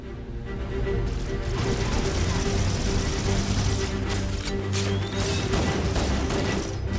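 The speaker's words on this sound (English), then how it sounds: "Grenade!" Grenade blast in the middle of a continuous gunfight in the video game Halo: The Master Chief Collection, dense rapid fire and booms running loud throughout with a voice briefly heard.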